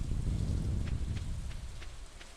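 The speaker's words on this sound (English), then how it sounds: "Is it because it's raining?" Steady rain falling in the video game Stardew Valley, a dense, even hiss with faint soft ticks of drops scattered through it, heard alone.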